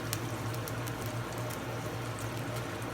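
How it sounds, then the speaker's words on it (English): A pot of pasta water boils steadily on a stove with its lid set ajar, giving a continuous low bubbling rumble with soft crackling pops throughout, close and fairly quiet, with no voices. "I just took the lid a little bit, let some of the air escape, and then stop it from boiling over."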